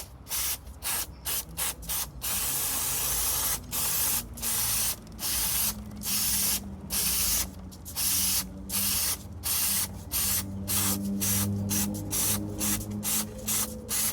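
Repeated bursts of aerosol chain lube spraying onto a Suzuki Gladius motorcycle chain, hissing close by in short and long puffs in an uneven rhythm, with a low mechanical hum underneath throughout.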